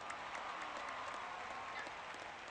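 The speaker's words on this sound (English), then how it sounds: "Fans who are here applaud Pumpsy Green for his fine defensive play" Simulated ballpark crowd in the OOTP baseball video game, a 1960 Red Sox versus Senators matchup, gives a soft, even wash of distant applause and murmur, low in level and steady without peaks.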